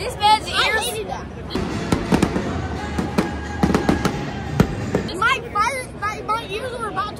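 Fireworks after a Braves baseball game, a rapid run of loud sharp bangs and crackles up close in the middle of the clip, with people talking and crowd chatter before and after.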